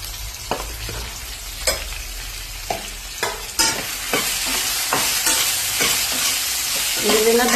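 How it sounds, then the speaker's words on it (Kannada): Okra frying in about two spoons of oil in a pan while a spoon stirs it, a steady loud sizzle broken by regular scraping strokes, the hiss swelling toward the end. "ಇದನ್ನ ಬೆಂಡೆಕಾಯಿನ ಚೆನ್ನಾಗಿ ಫ್ರೈ ಮಾಡಬೇಕೀಗ, ಲೋಳೆ ಎಲ್ಲ ಹೋಗೋವರೆಗೂ."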